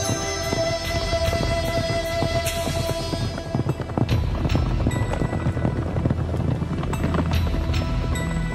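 A horse's hooves clip-clop steadily as it is ridden outdoors, a continuous rhythmic patter of hoofbeats mixed with wind and a loud, busy background.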